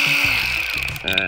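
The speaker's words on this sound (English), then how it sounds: "Let's get this bolt out of here." A power tool whines steadily up close as it works a bolt out during transmission prep on a 2001 Chevy Venture, ending in a brief higher-pitched burst.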